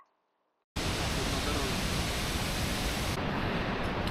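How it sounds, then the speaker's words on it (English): A large waterfall beside a small Shiva temple on the Annapurna Base Camp trek bursts in after a moment of near silence, then roars as a loud, steady, close rush of falling water. "beautiful waterfall."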